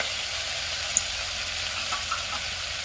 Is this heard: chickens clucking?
no